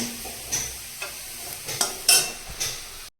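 Potatoes sizzle and crackle in a hot pan, with regular scraping stirs every half second or so punctuating the steady frying.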